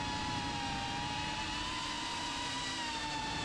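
An iFlight ProTek35 FPV drone in flight gives off a steady, high, whining propeller buzz with a constant pitch and level, at moderate distance, with no talking.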